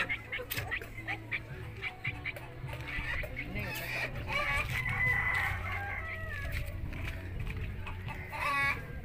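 Chickens cluck and a rooster crows amid busy background chatter and clatter at a chicken seller's stall in Comoro market, Timor-Leste, with people talking nearby throughout.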